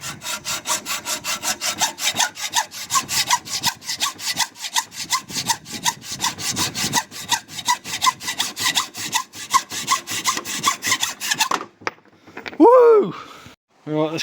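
A part for a forged EJ257 engine in a Subaru Impreza STi Prodrive build is cut through with a hand saw. Fast, steady back-and-forth strokes rasp loudly up close. Then the sawing stops and a voice lets out a brief exclamation.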